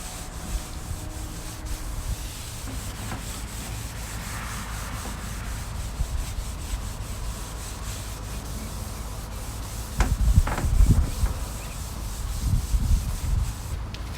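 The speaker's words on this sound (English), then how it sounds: "We're basically going to keep wiping this until we come back with a clean towel." A towel wipes a surface in a bus conversion build, producing a continuous, close rubbing and scrubbing hiss with a few louder swipes and knocks toward the end, with no talking.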